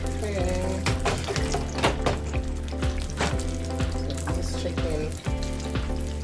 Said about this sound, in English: when you're frying chicken and you cover your pot, you get a better frying chicken